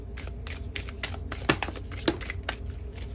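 Oracle cards being shuffled and handled at close range, a steady run of soft papery riffles and flicks with a couple of sharper snaps, no talking.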